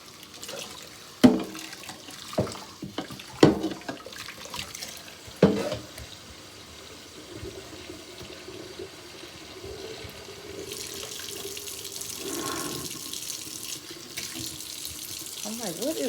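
Kitchen sink tap running while dishes are washed in a small kitchen, a steady close water hiss building in the second half after a few sharp clatters and knocks, with little talk.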